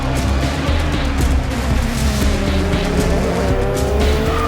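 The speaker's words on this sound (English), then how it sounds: "And they go out now, and it's a cracking getaway then." Race cars roar off at the start of the 2018 4 Hours of Portimao endurance race, a loud, continuous dense engine blare with rising and falling pitches from many cars and some tire squeal, no talking.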